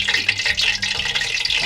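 Sa yung dough balls deep-frying in oil at about 90 to 100 degrees, a steady close hiss of bubbling oil with a faint low hum underneath, continuous with no talk.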